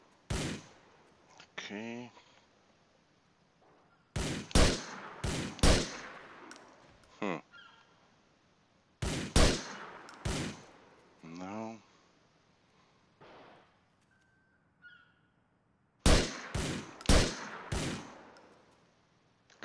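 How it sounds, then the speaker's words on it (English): Gunfire in the video game GTA IV comes in short clustered volleys of sharp, loud shots separated by quieter gaps, with someone talking between bursts. "Who's shooting? Oh, you are shooting."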